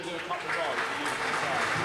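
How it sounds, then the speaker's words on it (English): Crowd applause for the youth speedway riders at a Poole Pirates speedway testimonial meeting, a steady broad clatter of clapping throughout with an announcer talking over it. "give them a round of applause"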